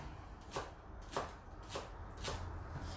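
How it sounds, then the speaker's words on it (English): A knife slices green onions on a cutting board in four soft, evenly spaced cuts, each a short crisp tap. The sound is faint and close. "we're just going to make little slices out of our green onions"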